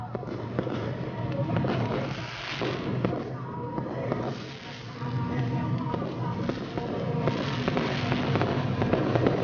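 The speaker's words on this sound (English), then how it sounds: "Fireworks going off in the infield." Fireworks go off in the infield of Kingaroy Speedway on the final night of a modified sedan race meeting, a continuous dense rumble of bursts and thumps, with crowd noise and a commentator's voice mixed in.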